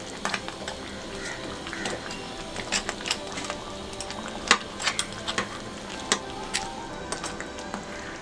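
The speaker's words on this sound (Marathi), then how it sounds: "जरा आपण हलवून घेऊया खेकडी." Malvani stuffed crabs being stirred in a covered pan over a low flame, with soft scraping and clicking from the stirring over a gentle, steady sizzle. The sounds come close and moderate in level, with no talking.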